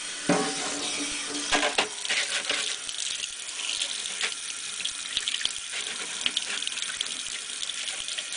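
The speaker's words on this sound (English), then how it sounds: "I'm going to wash this off." Tap water runs steadily over a freshly etched copper circuit board in a sink, a continuous close splashing gush with small clinks, no talking.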